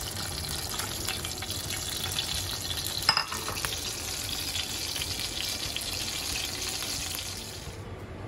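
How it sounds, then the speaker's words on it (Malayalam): Prawns go into a pan of tempered spices for a Kerala-style prawn and brinjal coconut curry, giving a soft, steady sizzle and frying hiss with a brief clatter partway through, fairly quiet and without voices. "and now we put the prawn."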